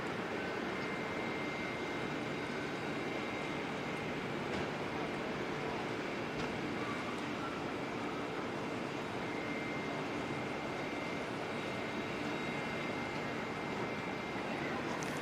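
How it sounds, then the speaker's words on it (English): Qantas flight 156, bound for Melbourne, taxis around the far side of Auckland Airport. Its engines give a steady, continuous roar that stays level throughout. "Qantas 156 is making its way out around the far side. It's the Melbourne-bound aircraft."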